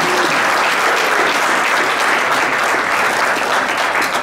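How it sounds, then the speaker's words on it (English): An audience applauds a tenor saxophonist at a jazz performance, steady dense clapping filling the whole stretch at close range with no talk over it. "How about a big hand for Mr. Ryan Swanson?"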